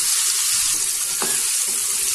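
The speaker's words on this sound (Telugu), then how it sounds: "మీడియం ఫ్లేమ్ లో పెట్టి బాగా వేగనివ్వాలి." Popcorn chicken pieces fry in hot oil over a medium flame, giving a loud, dense, steady sizzle that stays close throughout, with faint stirring sounds beneath it.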